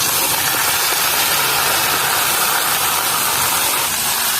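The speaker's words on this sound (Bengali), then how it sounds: "ফোড়নটা রেডি হয়ে গেছে, সবজিগুলো দিয়ে দিচ্ছি।" Mixed vegetables, including Malabar spinach, hit a hot Bengali spice tempering in a pan and set off a loud, dense, continuous sizzle and hiss with no talking.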